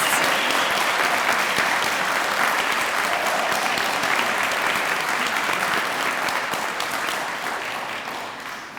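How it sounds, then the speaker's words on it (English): Big round of applause from the audience for the winners of a children's writing contest at an awards ceremony, a thick, even roar of many hands clapping that holds steady, then gradually thins toward the end. "let's just give one big old round of applause for all the winners of our contest"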